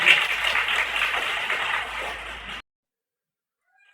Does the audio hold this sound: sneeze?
no